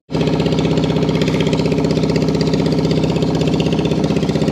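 A boat engine runs steadily on a flood relief trip in Feni, a loud, close, continuous motor drone with a fast rhythmic knock throughout and no talk.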